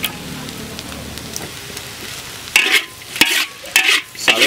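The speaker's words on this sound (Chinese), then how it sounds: "稍微炒一下就可以" Spring onion is stir-fried in a wok with a few sharp bursts of sizzle and scraping as the food is tossed, quieter hiss before, no talk.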